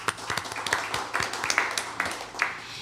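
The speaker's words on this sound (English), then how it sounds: "how about one more round of applause for Shane Kelley" An audience applauds a performer at a live radio show, a modest, fairly quiet patter of scattered claps from a small crowd.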